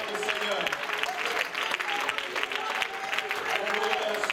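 A church congregation claps and cheers steadily, a dense wash of applause with voices mixed in throughout.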